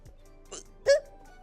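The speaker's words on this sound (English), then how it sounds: "I have a hiccup." A person's hiccup: a short, sharp catch in the throat, faint and close, coming once alone with a slighter one just before it.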